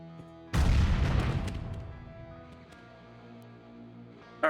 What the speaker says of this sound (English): I'm just gonna throw a grenade in and leave.